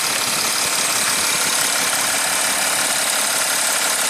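An Audi Q7 TDI diesel engine idles with a loud, steady, close-up rumble and rattle, running continuously with no talk over it.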